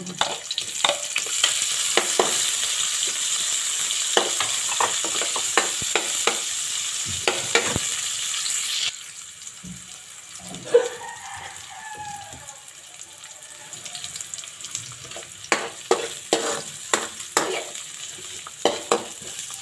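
Onion sautéing in a pan for a lemon-juice chicken adobo, a bright sizzle with frequent stirring clatter that drops to a quieter fry midway, then sharp utensil taps return near the end.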